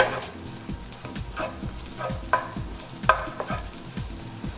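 Garlic frying in a pan for a macaroni sauce, a steady sizzle with repeated stirring scrapes and clicks of a utensil against the pan, close and alone.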